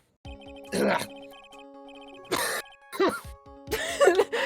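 A character in Ace Attorney coughs in short, rough bursts several times, with electronic chimes and jingling game tones sounding between the coughs.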